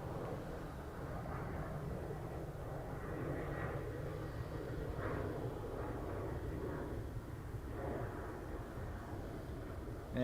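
Airliner rolling along the runway at Dublin Airport, a steady distant engine rumble and whine that holds through the whole stretch, with no talk.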